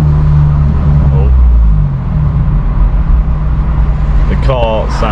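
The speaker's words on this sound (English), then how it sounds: "The car sounds broken." A car engine with an aftermarket exhaust whistle accessory rumbles loudly and close throughout, a steady low drone with a brief higher whistling squeal near the end.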